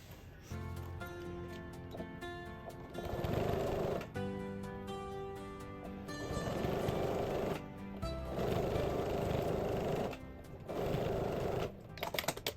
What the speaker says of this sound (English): Okay, and then sew the rest.